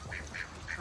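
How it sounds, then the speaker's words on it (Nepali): A duck at a pond in Gero Gassho Village, Japan, where fish and pigeons gather, gives three short, faint quacks in quick, even succession over steady outdoor background noise. "ए हाँस पनि रहेछ त"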